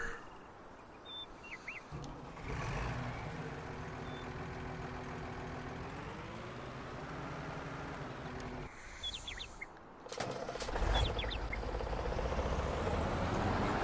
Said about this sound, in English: This truck's so awesome. I really like this truck. It's a little underpowered, but it's realistic.